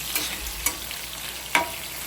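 Chicken browning in a pan, a continuous close sizzle broken by three short stirring scrapes, with no voices.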